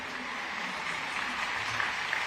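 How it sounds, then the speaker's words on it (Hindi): Audience applause at the Maharashtra Bhushan award ceremony in Raigad, a steady dense wash of clapping from a large crowd that holds even throughout, with no voices over it. "बड़ी जोर से ताली बजाकर ये योग्य सम्मान का समर्थन करिए"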